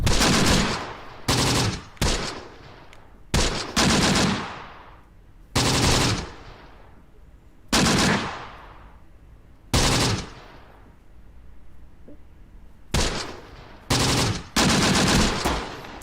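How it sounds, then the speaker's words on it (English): Machine gun fire in the World War II strategy game Close Combat: The Bloody First, loud repeated bursts of automatic fire each ringing out into a decaying tail, separated by short pauses. "Enemy's got a lot of machine guns,"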